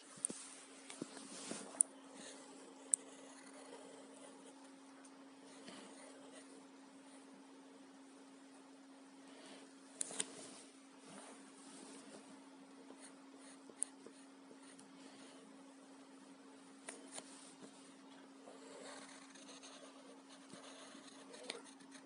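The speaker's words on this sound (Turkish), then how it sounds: "Bugün sizlerle birlikte bir araba çizeceğiz." Pencil drawing a car on paper, a soft continuous scratching close up with a few light taps, against a faint steady background hum.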